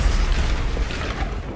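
A Confringo fire spell from the video game Hogwarts Legacy goes off as a loud, dense, booming blast with a roaring rumble that fills the brief moment, with no voices over it.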